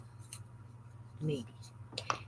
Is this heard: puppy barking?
no